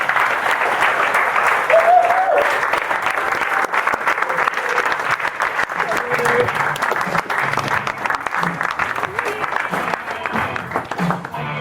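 A crowd at a marketing talk claps steadily for more than ten seconds, a thick, continuous roar of applause with scattered voices and occasional cheers mixed in.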